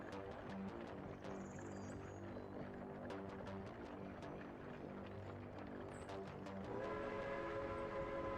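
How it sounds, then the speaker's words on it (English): A hazardous waste train rolls into a rail yard in the video game Workers and Resources, with a steady rumble, clacking wheels and a sustained horn-like tone rising near the end, loud and continuous with no talk. "hazardous waste train drives in there and waits basically."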